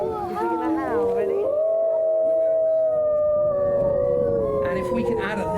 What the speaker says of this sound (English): the howl, this hypnotic sound which resounds across the environment